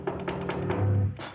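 Four evenly spaced raps on a door sound, followed by a low hum, with no talking over them.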